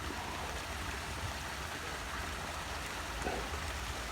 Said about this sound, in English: You can see the water's not even going through the pipe. It's going around the pipe.